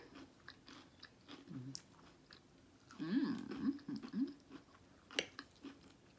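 Close, crunchy chewing of crisp shrimp salad, a burst of rapid bites in the middle with quieter munching before and after, no talking.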